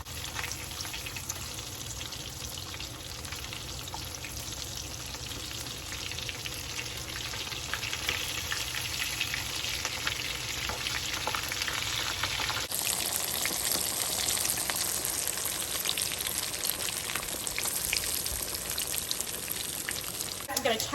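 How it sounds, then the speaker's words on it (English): Keto catfish strips frying in a skillet, a constant close sizzle and crackle of hot oil that grows slightly brighter and busier partway through, with no voices. "we're gonna get our fish going here and we're gonna let that cook until it's golden brown on both sides"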